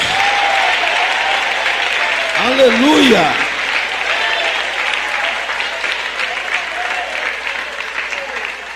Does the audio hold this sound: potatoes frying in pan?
no